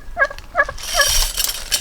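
Several turkeys gobble in quick bursts at an off-grid house site, three distinct rattling calls close by, followed by a broad rushing noise in the background.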